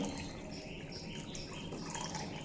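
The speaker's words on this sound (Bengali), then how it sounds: "এবার এড করে দেব ঝোলের জন্য পরিমাণ মতো জল" Water poured into a pan of bitter gourd curry cooked with mustard and poppy seed paste: a steady, close splashing and trickling with no pauses.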